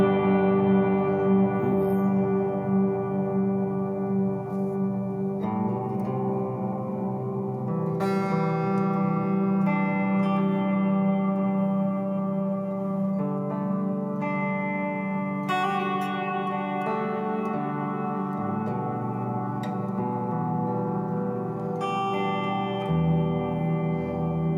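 Sustained electric guitar notes ring out through a reverb effect, each chord leaving long, washy trails that blend into the next.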